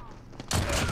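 A burst of automatic gunfire erupts halfway through from a Kilo rifle in Call of Duty Mobile multiplayer, loud and dense, following a quieter stretch of game sounds.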